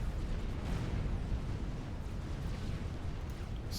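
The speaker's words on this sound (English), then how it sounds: "those 2 artillery pieces of Dominic's there just doing the work that they need to be doing" Artillery fire and explosions in the real-time strategy game Supreme Commander, a constant low rumbling barrage of distant booms blending into one dense roar, without talk.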